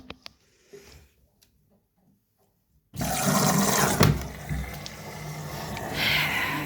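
Water rushes into the drum of an LG F2V5GG9T washer-dryer after a few faint clicks, a steady loud gushing that continues without pause.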